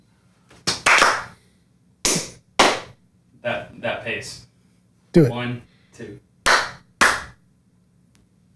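Hand claps switching a clap-activated light on and off: several sharp, close claps in short bursts, separated by bits of casual conversation among a few people.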